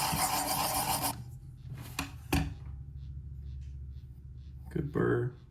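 Steel pocket knife blade rasping against a sharpening stone in a few short strokes, with a longer run of scraping at the start and brief bursts later, fairly close and alone.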